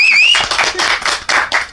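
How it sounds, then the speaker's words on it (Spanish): A studio audience claps and cheers for Argentine guest Ángel Porco on a television show, a dense burst of applause rising and falling in waves, with a few brief shouts over it. "Se merece aplausos."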